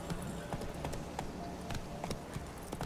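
Geralt's horse galloping in The Witcher 3: Wild Hunt, a steady run of hoofbeats at moderate distance over a dense ambient game background, with no talk.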